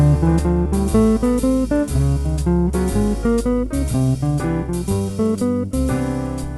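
A guitar plays a steady scale exercise, even notes stepping up and down in a continuous run with no voices.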